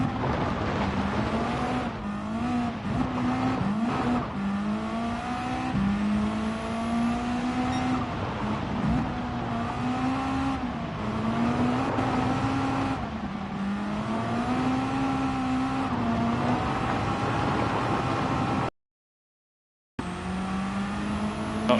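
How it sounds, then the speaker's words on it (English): A race car in Gran Turismo 7 on the Colorado Springs circuit, its engine droning loud and steady with rising and falling revs through gear changes, alongside a harsh blow-off valve, broken by a brief drop to silence near the end. "One of the toughest sounding blow-off valves you can get."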